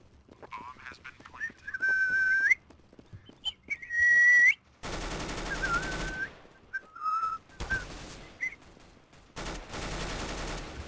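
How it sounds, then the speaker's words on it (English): A person whistles a tune in short phrases between bursts of rapid gunfire from a Counter-Strike match, the whistling clear and close, the shots loud and abrupt. "I'm just whistling some shit."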